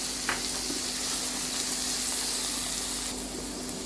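Cubed fish frying in a pan with cardamom seeds, a steady broadband sizzle that runs unbroken and close for several seconds, with no voices.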